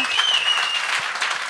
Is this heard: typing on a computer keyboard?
no